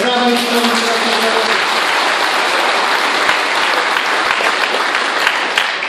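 A crowd at a political rally in Mielec bursts into dense, loud applause that lasts throughout, with a voice briefly heard at the start.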